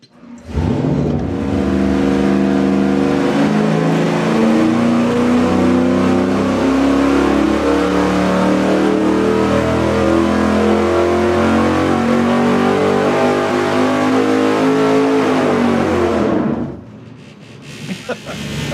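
A high-performance engine fitted with an Edelbrock RPM intake revs hard on a dyno, a loud sustained roar that climbs steadily for about fifteen seconds and then cuts off abruptly.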